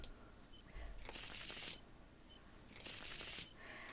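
Tarot cards are shuffled in the video game Martha is Dead: two crisp, riffling bursts about a second and a half apart, close and clear over a quiet background, with no voices.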